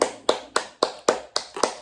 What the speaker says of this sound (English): We're getting applause